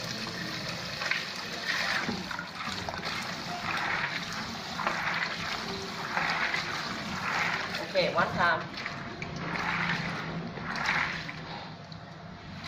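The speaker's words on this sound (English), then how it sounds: "I rinse them about 4 times so the water's clear" Water swishes and sloshes over soaked soybeans in a bowl during rinsing, coming in repeated rhythmic surges a second or so apart, close and moderately quiet, with a brief spoken remark partway through.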